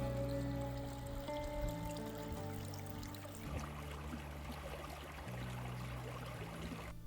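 Water babbles gently along Willis Creek in a sandstone slot canyon, a steady close trickle and pour that runs continuously with no voices.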